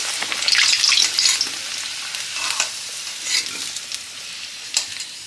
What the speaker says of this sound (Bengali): লাল করে ভেজে নিচ্ছি।